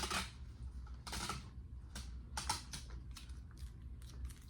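Adhesive tape pulled off the roll and pressed down on a Dollar Tree gift basket, a few short, crackly tearing bursts close up in a quiet room.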